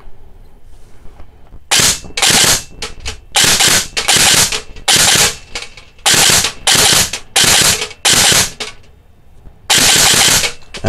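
Airsoft gun with an Orga Magnus 6.10mm barrel and chamber set fires loud bursts of shots in quick groups, with short pauses between volleys while the shooter moves as if running.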